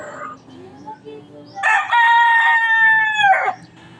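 A single loud rooster crow rings out close by, a long sustained call that rises and then falls away, with quiet clucking before it.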